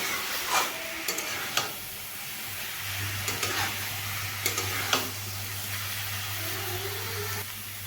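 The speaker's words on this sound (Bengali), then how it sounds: "এবার আমি এখানে দুটো চেরা কাঁচা লঙ্কা দিয়ে দিলাম আরও একটু ভালোভাবে আমি এইভাবে নেড়ে নেব" Papaya curry with slit green chillies cooking in a pan, with faint intermittent stirring scrapes over a low sizzle and a steady background hum, fairly quiet, with no voices.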